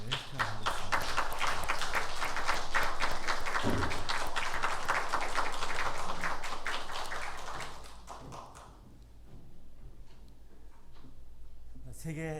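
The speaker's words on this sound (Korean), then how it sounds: "우리 박수로 감사한 마음을 표현하겠습니다" A congregation at a Sunday worship service at Hanyang University Church applauds the choir. The clapping is crisp and rapid for about eight seconds, then fades to near silence with a faint voice.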